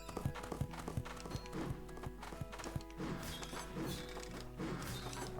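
Horses in a Western-themed level of the video game Bolt Bot Screwy Viruses, with hooves clip-clopping in irregular bursts alongside clanks and game music.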